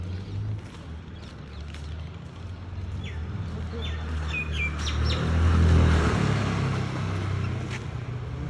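Small birds in a garden by a berry tree chirp and tweet in short bright calls over a steady outdoor hum, with a passing vehicle swelling in the middle. No voices are heard.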